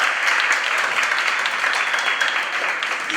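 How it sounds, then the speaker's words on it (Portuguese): Audience applause at a comics talk and book event, a dense steady wash of many hands clapping throughout, fairly close and loud, with no voices over it. "São palmas para a camarada."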